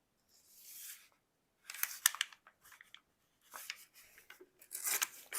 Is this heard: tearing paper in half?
yes